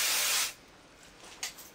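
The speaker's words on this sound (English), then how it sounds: "I do have a spray" An aerosol spray can hisses in a steady half-second burst during a guitar pickup installation, followed by a quiet pause and a brief second puff.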